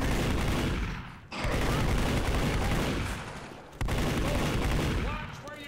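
Dense, continuous video game gunfire in a chaotic public-session firefight, rapid shots blending into loud sustained bursts that break off briefly twice before resuming, with voices faintly mixed in.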